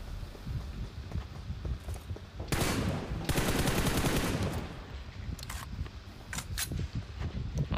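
Shotgun fire in a video game: a few heavy, booming blasts land amid a busy background of smaller clicks and taps, with the loudest bursts clustered mid-clip.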